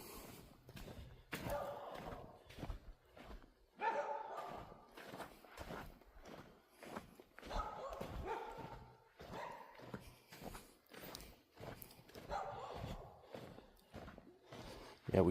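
Neighbours' dogs bark in repeated bursts through a riverside neighbourhood stroll, with loud close barks and yelps mixed with thumps and footsteps, going on throughout.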